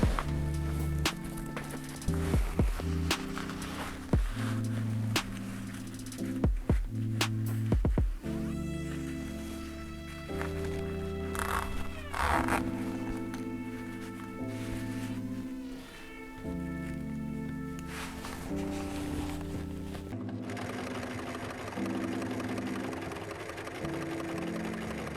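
A sewing machine stitches the top and bottom seams of a fabric pencil case with an elastic band, running in steady hums broken by short pauses and thumps for most of the stretch.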